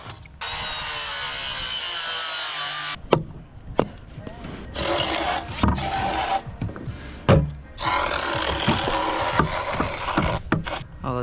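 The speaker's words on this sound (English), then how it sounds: "I'll drill these guys out real quick." Power drill driving through lumber on a house-framing job site, a long steady whine followed by repeated shorter bursts of drilling with clattering and knocks between them, loud and close, with people talking briefly.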